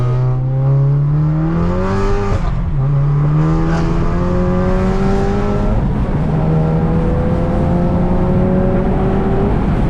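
Tuned Cupra 5F stage 2 engine revving hard in loud, continuous rising and falling sweeps, with brief crackles and exhaust pops between throttle blips, close and dominant throughout.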